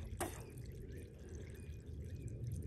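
Water from a siphon hose trickles and drips faintly and continuously, with a quiet low rumble underneath and no speech.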